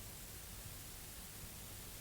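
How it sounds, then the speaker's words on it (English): White noise texture from the Nebula plugin used in a chill guitar music sample, a faint, steady hiss spread evenly across the band, unchanging and alone. "It just sounds like white noise."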